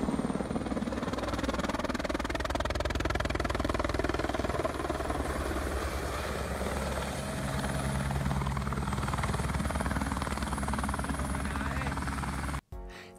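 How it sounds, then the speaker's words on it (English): A helicopter's loud, continuous rotor thump and engine whine fill the scene as it lands fast on an aircraft carrier, steady and close, before cutting off abruptly at the end. "Take a look at this really fast helicopter landing."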